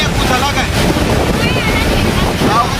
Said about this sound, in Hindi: पानी इतनी रफ्तार और इतनी ताकत के साथ आया है